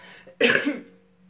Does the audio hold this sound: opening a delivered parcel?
no